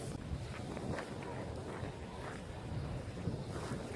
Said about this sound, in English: God, this wind, bro. This wind sucks.